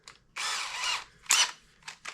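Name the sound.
brushless cordless drill running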